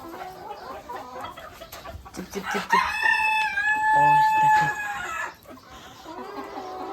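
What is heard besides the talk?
chickens clucking, rooster crowing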